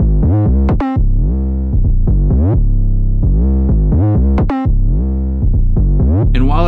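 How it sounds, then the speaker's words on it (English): A loud, distorted 808 bass in a beat glides up and down in repeated pitch slides, with brief gaps and sharp transient hits between phrases, filling the whole clip with no talking. "the craziest 808 slides on earth"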